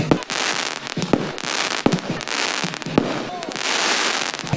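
A medium fireworks cake fires shot after shot at a New Year's camping celebration on a rural property, sharp launch thumps and crackling bursts repeating every second or so over constant noisy crackle, while people talk.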